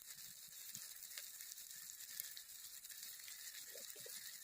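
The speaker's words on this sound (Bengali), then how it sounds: "আদা রসুন ভেজে নিয়েছি এবার দিয়ে দেবো হলুদ গুঁড়ো লঙ্কা গুঁড়ো" Ginger and garlic frying in a pan with turmeric and chili powder added, a faint continuous sizzle with small crackles heard close and quiet, without any voices.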